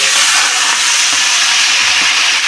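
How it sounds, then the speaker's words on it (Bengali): Vegetables frying in a hot kadai for a mixed pasta, a loud, steady broadband sizzle and hiss, close and continuous with no pauses or talking. "কড়াইয়ের মধ্যে এখন সমস্ত সবজিগুলোকে ভেজে নেব"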